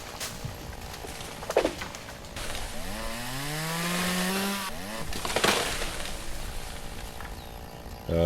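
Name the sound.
chainsaw cutting down trees in a forest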